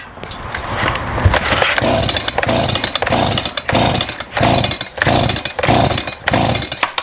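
STIHL chainsaw with bar oil in its fuel tank being pull-started repeatedly without running, giving loud, close, rhythmic rasping bursts from the starter cord and engine turning over in quick succession.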